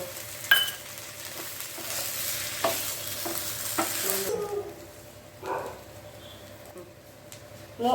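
Potato curry with lemon juice and chopped coriander being stirred in a pan: repeated scraping strokes over a soft sizzle, busier at first and then sparser and quieter, with no talking.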